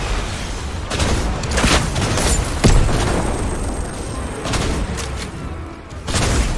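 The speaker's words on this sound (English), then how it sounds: "shoot that rocket launcher at me" Explosive blasts and booming gunfire in Fortnite Battle Royale, several loud bursts and thuds spread unevenly through a noisy firefight.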